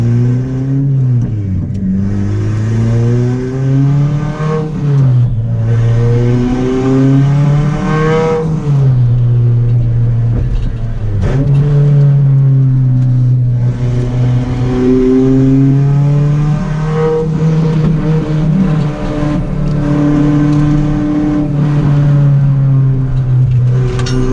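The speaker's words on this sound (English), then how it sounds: "the car seems to be running fine. It's just ridiculously loud." A very loud turbocharged Honda Civic with a straight-piped exhaust revs hard and holds high, rising and falling in long pulls with a deep, raspy exhaust drone throughout.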